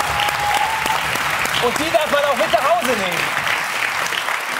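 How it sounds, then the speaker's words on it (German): Audience applause at a live German music-quiz show, a dense, steady clatter of clapping heard under a host speaking over it. "dafür gibt's einen Applaus für die Ananas."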